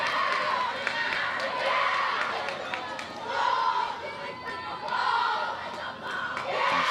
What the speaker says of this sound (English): cheering like we are hearing right now